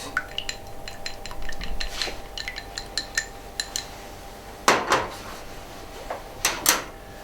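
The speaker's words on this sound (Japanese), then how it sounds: "卵を割って溶いておきます。" Eggs are cracked and beaten in a bowl for fried rice: a quick run of light, rhythmic clicks against the bowl, then a few louder knocks and clatters, close by with no voices.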